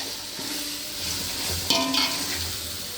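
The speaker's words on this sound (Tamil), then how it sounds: "அது நல்லா வதக்கிடுங்க" Ginger garlic paste sautéing in hot oil for biryani, a steady broadband sizzle with soft stirring scrapes and a brief clatter near the middle, close and alone without talk.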